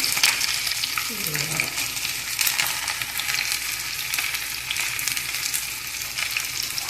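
Banana flower pakoda fritters fry in hot oil with a continuous crackling sizzle at moderate loudness, while a utensil briefly stirs and scrapes.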